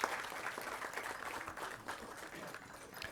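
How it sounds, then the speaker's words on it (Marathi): An audience at a felicitation ceremony applauds with steady, even clapping that holds at a moderate level for the whole stretch, a dense wash of hands with no speech on top. "आपण जोरात टाळ्या वाजवूया म्हणजे त्यांचा आनंद अजून द्विगुणित होईल"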